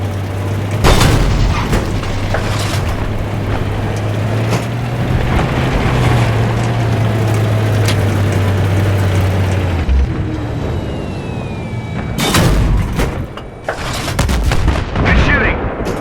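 M1 Abrams tank cannon firing in combat: heavy booming blasts cut through a constant engine rumble, with shouted voices between the shots.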